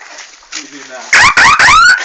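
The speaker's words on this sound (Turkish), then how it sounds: "Evet kornayı bastı şu an." A few loud blasts from a vehicle horn at a race, sharp and close, following faint background noise and a brief voice.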